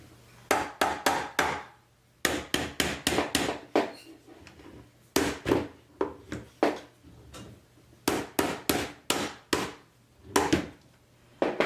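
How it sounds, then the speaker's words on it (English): Sharp hammer blows strike wood in quick bursts of four or five hits, separated by brief pauses, loud and close, while the base of a DOBOT Magician robot arm is changed. "So we have to hammer it in."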